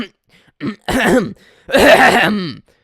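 Several close, throaty clearing sounds, a short grunt followed by longer rasping bursts, with no speech.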